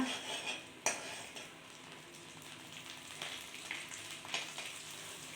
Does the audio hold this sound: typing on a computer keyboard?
no